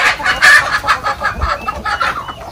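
Heritage chickens and roosters on a Filipino poultry farm, a busy chorus of close, loud clucking with a rooster crowing amid the flock, calls overlapping in irregular bursts.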